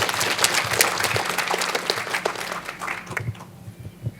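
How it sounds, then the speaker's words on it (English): A crowd at a company annual general meeting applauds with dense, steady clapping that thins out and fades over a few seconds. "Please give her a clap."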